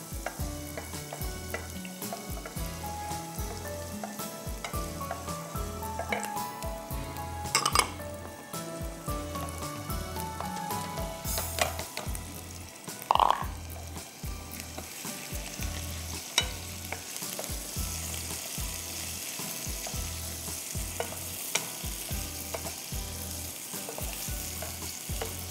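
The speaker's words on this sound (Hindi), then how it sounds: "थोड़ा सा गार्लिक हल्का सा गोल्डन होना शुरू होगा तो मैं इसमें झींगे डाल दूंगी" Shrimp and garlic fry in a pan, a steady close sizzle running throughout with occasional stirring scrapes and clinks of the utensil, no talking.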